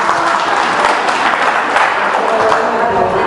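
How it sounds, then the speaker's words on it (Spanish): A congregation at a church service applauds a young reader, a dense, even wash of many hands clapping that holds steady and fairly close. "Démosle un aplauso a Benja."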